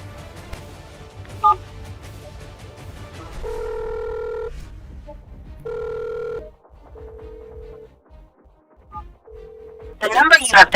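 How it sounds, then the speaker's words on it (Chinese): A phone call placed on speakerphone gives repeated steady ringback tones with pauses between them, loud and close, before a burst of a voice from the phone line at the end. "拨电话，开免提。"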